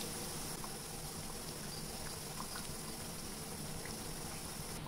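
Sweet dough made from semolina and wheat flour frying in hot oil, a steady close bubbling sizzle that holds evenly throughout with no talking.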